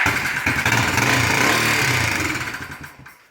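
A 1980 Yamaha SR250 single-cylinder motorcycle engine runs close by with a steady, rough mechanical clatter and some top-end noise, holding level before easing off near the end.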